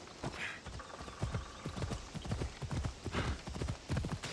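A horse in the game Assassin's Creed Odyssey trots with a steady, rapid clip-clop of hooves. A short whinny sounds near the start, and a low ambient hum runs underneath.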